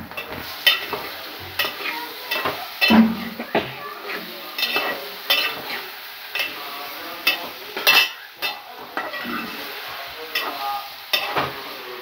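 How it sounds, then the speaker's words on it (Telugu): Boiled green banana pieces go into a pan with curry leaves and are stirred, giving repeated scraping spoon strokes against the pan over a soft sizzle, close and alone. "ఇప్పుడు ఉడకబెట్టుకున్న గ్రీన్ బనానా పీసెస్ని కూడా దీనిలో వేసేసుకుందాం."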